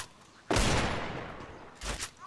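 Gunfire in a one-on-one custom desert match of a shooting video game: a sharp burst of rapid shots, then a second shorter burst a moment later, loud and close.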